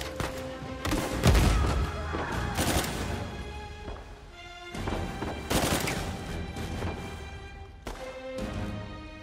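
Gunfire during a firefight in Uncharted 4: sharp shots and thumping impacts land in irregular clusters over a busy background, some loud and close, others softer.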